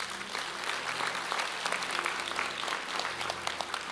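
A church congregation claps throughout, many individual hand claps forming a moderately loud, busy patter that holds steady from start to finish.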